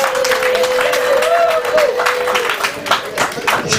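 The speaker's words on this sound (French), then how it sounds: "Est-ce que vous pouvez applaudir vous-même pour votre vie?" Village audience clapping at an outdoor gathering, a dense, steady patter of many hands with a few louder claps, mixed with crowd noise and a voice carrying over it.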